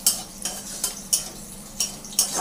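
Chopped onions fry in hot oil for an aloo-potol kofta, with a steady close sizzle under sharp, regular scrapes of a spoon stirring the pan about every half second.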